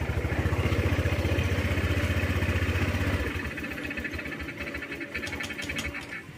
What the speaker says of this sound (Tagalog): So buhayin natin yung ating makina.